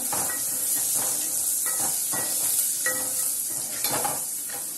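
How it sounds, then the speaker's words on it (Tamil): Sliced onions with salt and crushed garlic fry in hot oil for a fenugreek curry, giving a steady, loud sizzling hiss with occasional stirring scrapes throughout and no voices. "எப்பவுமே வெங்காயம் வதங்கணும்னா ஒரு ஸ்பூன் வந்து சால்ட் போட்டுக்கோங்க, நல்லா வதங்கிடும்"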